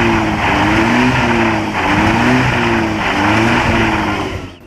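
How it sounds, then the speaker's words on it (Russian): Car engines revving hard with wheels spinning on an icy, flooded street at minus 20 in Samara, a steady loud whine rising and falling in repeated surges, no talk. "Автомобили буксуют"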